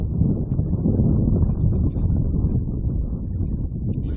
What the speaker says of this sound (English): the wind continues to gust through Lake Macquarie Regional Football Facility along with a misting of rain